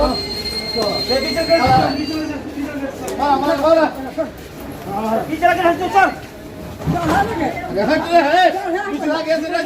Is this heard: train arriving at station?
yes